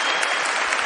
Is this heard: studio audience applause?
yes